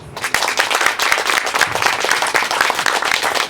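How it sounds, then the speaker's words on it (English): A room full of guests at the opening of a digital education learning lab breaks into a big round of applause, dense and steady clapping carrying loud and close from start to finish. "please give all of our friends here a big round of applause"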